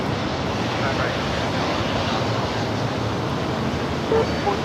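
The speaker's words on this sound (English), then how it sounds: "United Airlines flight 2347 at 757-300. Making its way from taxiway Charlie over to Bravo." A United Airlines 757-300 airliner taxiing at LAX, a steady broad engine roar at a distance, constant and unvarying with no distinct events.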